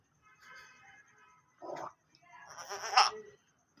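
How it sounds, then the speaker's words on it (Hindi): Goats kept in a farm enclosure for sacrifice bleat several times close by, a few separate wavering calls, the last one loudest, with little else in the background. "ये इस टाइम बकरे खड़े हैं कुर्बानी के लिए।"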